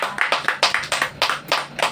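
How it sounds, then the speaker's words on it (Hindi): A congregation claps hands together in a steady, quick rhythm at a Hindi-language church service, sharp and close with no talking over it. "बजाओ ताली जोर से यीशु के लिए।"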